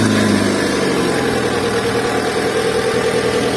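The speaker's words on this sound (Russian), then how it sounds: "Мотор работает, в принципе." A Chrysler 200 engine idles steadily and loudly up close, a continuous low hum with a faint rhythmic pulse and no voices over it.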